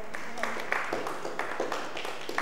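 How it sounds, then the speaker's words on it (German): An audience at a civic organ donation day event applauds a woman marking thirty years since her liver transplant: moderate, rhythmic clapping from a modest crowd indoors, with some faint voices mixed in. "Das ist ein Applaus wert."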